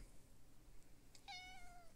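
A cat gives a single clear, fairly close meow over a faint steady background hum, with no one speaking.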